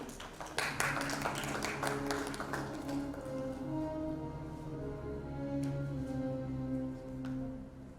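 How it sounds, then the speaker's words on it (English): Audience applause at an awards ceremony, sharp claps in the opening second thinning into scattered clapping over a sustained musical backing. "Can we have a round of applause for Dr."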